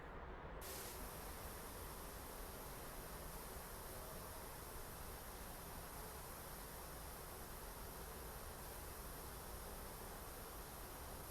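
A spray gun paints a car in the Car Dealer Simulator video game, giving a loud, unbroken hiss that holds steady for the whole stretch, with no talk.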